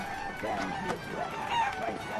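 Chickens cluck and squawk in the video game Granny, a short, busy stretch of fowl calls mixed with a person talking.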